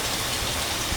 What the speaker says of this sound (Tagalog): Lakasan ng ulan.